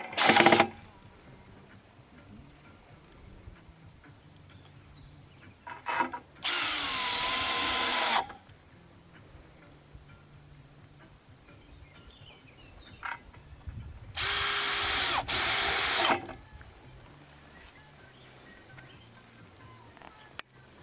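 A power drill drives screws into wood on a timber drying rack build, three loud whirring bursts of a few seconds each separated by quiet handling clicks.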